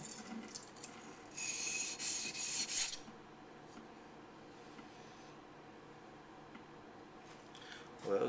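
A yanagi knife blade rasping against a sharpening stone, a loud scraping stretch of a second or so, then quieter, with a brief rub again at the end; no speech over it.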